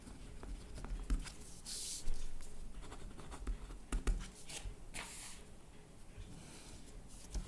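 Pen scratching on paper while an accounting contract problem is written out, with soft irregular strokes and taps, quiet and close, without speech.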